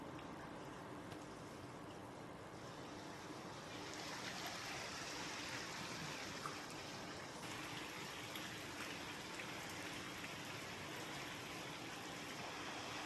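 Continuous heavy rain and water flowing through flooded streets in Dhuri, Punjab, make a steady, dense wash of splashing and trickling that grows slightly louder partway through, with no voices.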